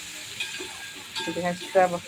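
Potatoes fry in a pan with a soft, steady sizzle while a utensil stirs and scrapes now and then, the clatter growing louder toward the end.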